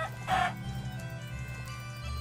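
A Minecraft chicken gives one short cluck near the start, brief and close, over low background game music.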